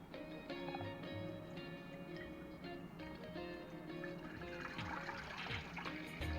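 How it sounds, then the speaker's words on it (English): Whole milk pours into a pot for Derby with Sage cheese, a steady liquid splash and gurgle running continuously and close throughout, with no voices. "Just adding the whole milk now."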